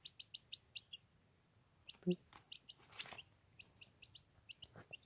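Rapid high chirping calls repeat in quick bursts from two junglefowl chicks nearby, with one lower cluck midway and faint rustling underneath.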